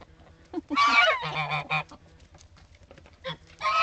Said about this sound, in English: Here come the geese again.